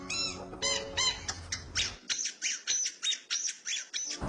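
A pet bird kept at a rural home squawks in a quick series of about a dozen sharp, harsh calls. The calls come in a steady rhythm, close and loud, after a few rougher opening cries.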